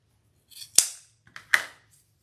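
Scissors cut through a ribbon loop in two sharp, crisp snips about a second apart, each with a short metallic ring, close and clear against silence.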